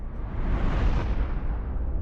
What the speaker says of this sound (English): The loud explosion ruptured the eardrums of almost everyone present.